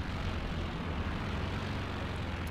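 An aircraft drones overhead in a D-Day video game, a steady low rumbling engine roar that stays constant throughout with no talking.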